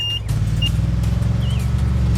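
A small toy truck carrying grass drives away on a miniature DIY road construction set, giving a steady, close motor hum with a faint high whine on top and no talking.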